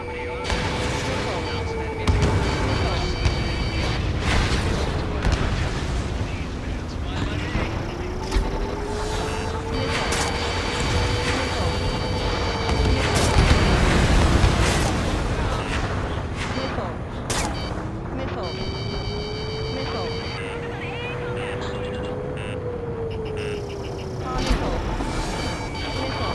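Missile strikes on an Aegis ship during a naval raid in the video game Ace Combat 7, with dense repeated explosions and gunfire over a wailing siren, while radio voices talk throughout.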